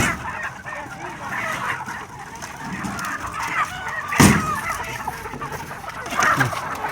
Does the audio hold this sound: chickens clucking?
yes